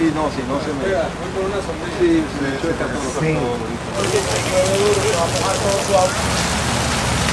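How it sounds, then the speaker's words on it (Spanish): A sudden heavy downpour makes a dense, steady hiss of rain that swells louder partway through, under continuous talk. "Ay Dios, se nos soltó un aguacero."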